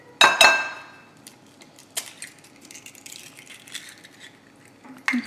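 An egg being whisked by hand, with a utensil clinking sharply against the bowl in a few loud, bright strikes separated by quieter taps and rattles.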